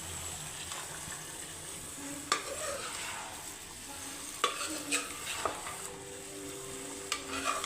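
Eggplant added to a sizzling pan of potatoes and stirred, a steady close sizzle broken by clattering spoon scrapes and knocks against the pan.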